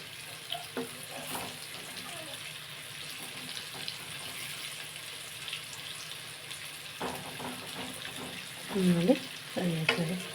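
Bitter gourd pieces fry in a pan with a steady low sizzle throughout, broken by a few louder scraping stirs near the end.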